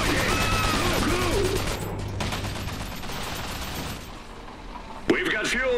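Battle gunfire in the strategy game Iron Harvest, a continuous wash of rapid shots, mechanical clatter and explosions under game voices, with a sharp crack near the end.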